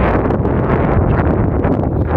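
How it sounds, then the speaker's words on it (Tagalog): Strong wind buffets the microphone in a loud, continuous low roar with gusty fluctuations, at a fishing outing in Japan. "Lakas ang hangin."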